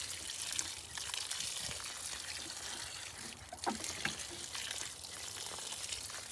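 Water poured from a can onto mulched soil around broccoli plants, a steady close splashing trickle that runs continuously for several seconds with no talking.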